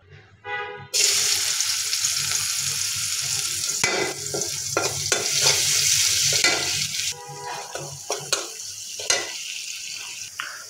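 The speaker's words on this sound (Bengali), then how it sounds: "এই তো পেঁয়াজ ভাজা হইতেছে।" Chopped onion frying in oil in a pan, a loud, close sizzle after a quiet start, broken by repeated sharp scrapes and clatters of stirring; no voices.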